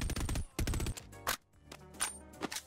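Shots from an HK416 rifle in the Boneworks VR game, a few sharp reports in short bursts, loud and close with brief gaps between them.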